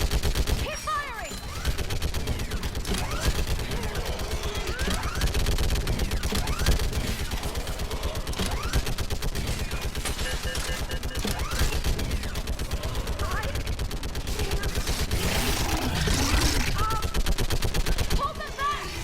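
Continuous gunfire from the Mass Effect Legendary Edition video game, dense rapid bursts and blasts layered over one another, loud and close throughout, with shouted combat voices mixed in.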